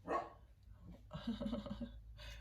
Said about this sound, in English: Puppy's a little bit annoyed that I am talking and it's not to Puppy. So Puppy is talking.